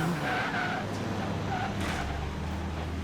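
A Pagani car in the Forza Horizon 3 racing game brakes hard from 200 mph, giving a short steady tire skid and road roar close up without pause.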